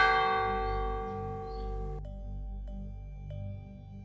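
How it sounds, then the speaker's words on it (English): A single deep bell tolls with a long, resonant ring that slowly fades, followed by a few faint, soft chimes over a low rumbling background. "And in the silence, he heard the bell."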